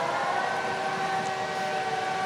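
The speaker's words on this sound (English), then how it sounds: "all of a sudden the air raid sirens went off" An air raid siren sounds during a practice drill near a quiet camping garden in the French Alps, a steady sustained wail carrying at moderate distance throughout with no talk.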